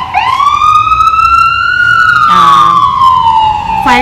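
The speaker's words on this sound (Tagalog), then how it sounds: "Fire truck yon." A fire truck leaving a neighbouring firehouse sounds its siren loud and close, a wailing tone that rises, holds, then falls, joined by a lower engine blast partway through.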